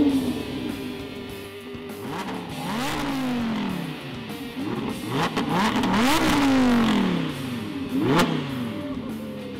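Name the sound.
supercar engine starting with start-stop button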